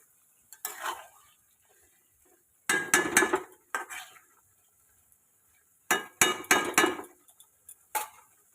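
Utensil clinks and scrapes against a cooking pot as chicken is stirred for Bengali chicken kosha, coming in short clattering bursts separated by quiet pauses, close and fairly soft.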